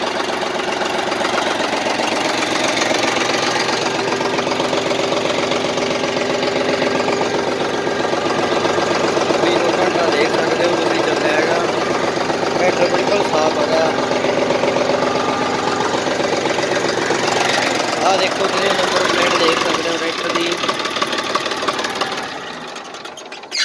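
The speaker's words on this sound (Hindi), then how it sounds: "तुसी ट्रैक्टर की आवाज सुन सकते हो" A 2014 John Deere 5050D tractor idles close by with a loud, steady diesel chug and a faint knocking rhythm, running unbroken for over twenty seconds before dropping away at the very end.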